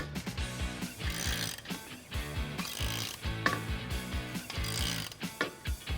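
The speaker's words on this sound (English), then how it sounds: "You can now tighten the hardware using two 19mm tools" A ratchet wrench clicks in quick repeated strokes as a bolt and locking nut are tightened with two 19mm tools while assembling a swing-away bike rack, close and rhythmic with brief pauses between bursts.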